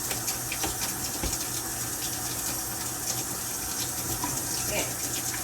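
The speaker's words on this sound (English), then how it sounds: "Now wash your hands good after working with pork." Water runs steadily from a kitchen sink tap while hands are washed after handling raw pork, a continuous close rushing splash with no talk.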